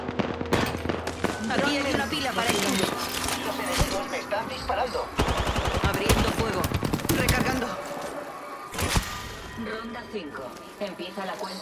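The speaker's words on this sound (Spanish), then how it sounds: "Me están disparando." Rapid bursts of gunfire in the Apex Legends video game, dense crackling volleys that stop and start throughout, loud and close, with someone talking over the shooting.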